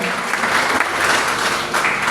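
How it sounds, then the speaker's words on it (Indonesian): A church congregation bursts into brief, dense applause, with steady loud clapping throughout and nothing else prominent. "Berikan tepuk tangan yang meriah untuk Tuhan."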